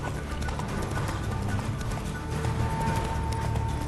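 A horse's hooves clip-clop steadily in The Witcher 3 as the horse moves along at a continuous even pace, set against a constant background ambience with no talk.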